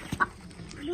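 A hen gives a brief cluck as chickens are put into an enclosure at a small home mini zoo, a short isolated call over quiet background rustle.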